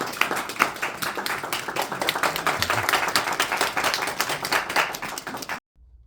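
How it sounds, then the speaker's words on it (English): Audience applause fills the room with dense, steady clapping from many hands, moderately loud and continuous before cutting off abruptly near the end. "Applause, we stand."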